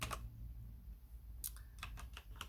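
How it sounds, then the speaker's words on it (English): Quick, irregular tapping on a computer keyboard at a Linux desk setup, close and clear, with a few sharper key strikes toward the end and no voices. "What keyboard is this that I'm typing in?"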